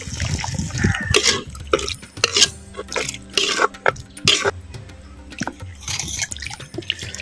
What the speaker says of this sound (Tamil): வாழைப்பு தண்ணியை வந்து நம்ம சேர்த்துக்கிறோம்